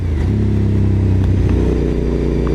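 A motorcycle fires hard out of a corner, its engine roaring loud and close with a thick, steady drone that holds strong throughout, with no voices.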